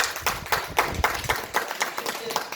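Congregation at a Daejonggyo religious service clapping in a steady rhythmic beat, a close group of hand claps repeating about every quarter second, with murmured voices underneath.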